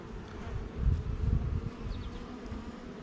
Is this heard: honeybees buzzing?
yes